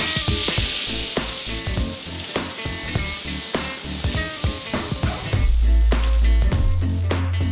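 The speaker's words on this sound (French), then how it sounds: "Il faut remuer tout le temps pour que les cacahuètes grillent uniformément." Raw shelled peanuts roast in a pot over a gas flame, stirred constantly with rapid rattling scrapes and crackles up close, and a louder low hum takes over near the end.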